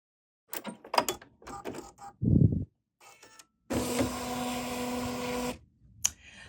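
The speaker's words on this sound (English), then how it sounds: "we're going to be stitching down our other basting, which is also a guideline for where we're going to do our trimming for our reverse applique" Bernina sewing machine stitching a basting, tack-down line for reverse appliqué, with short mechanical clicks and whirs, then one sustained humming stitch run of about two seconds, close up and fairly quiet.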